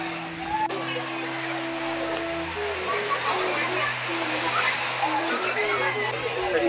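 Sea water sloshes and splashes at the crowded Rameshwaram shore, a continuous wash of surf under a steady hum, with voices talking over it throughout.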